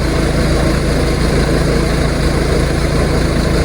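A John Deere backhoe engine idles while warming up before snow plowing, a loud, steady, close diesel rumble with an unbroken even drone throughout.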